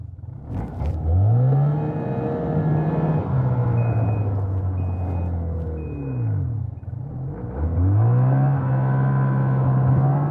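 A racing car on a snowy trail whines in reverse, engine pitch rising and falling as it backs up. Steady reversing beeps sound over the drone, close and loud with no talk.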